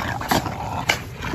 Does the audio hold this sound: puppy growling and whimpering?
yes